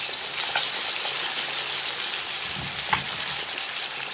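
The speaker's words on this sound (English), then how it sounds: "Light soy sauce." Light soy sauce hits stewed fish in a hot wok, giving a steady, close crackling sizzle throughout with brief stirring clinks.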